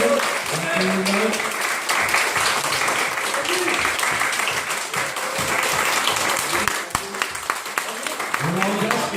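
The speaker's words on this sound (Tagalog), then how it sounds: "Give our best clap of it for the Lord." A church congregation claps for the Lord during a worship service, dense sustained applause throughout, with a voice speaking over the clapping.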